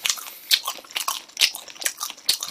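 Spicy chicken feet bitten and chewed up close, with sharp crunchy bites at irregular intervals and wet chewing between them, no talking.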